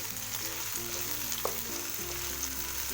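Chopped capsicum and cabbage leaves stir-fry in a hot pan for Chinese-style chicken and vegetable fried rice, giving a steady close sizzle with faint scraping throughout.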